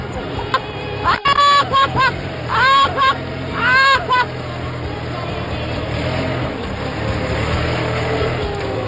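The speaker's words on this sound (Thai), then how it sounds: "อ้โหสุดยอดรถไถอ่ะ" A farm tractor engine runs with a steady low rumble throughout, with voices talking over it near the start before the engine carries on alone.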